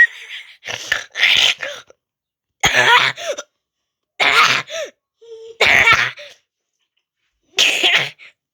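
A girl coughs in a string of harsh, explosive bursts, about six close, loud fits separated by brief pauses.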